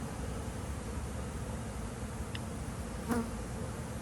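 Steady buzzing of honeybees around hive frames, like many bees droning close by, a continuous hum with a brief brighter buzz passing near the end.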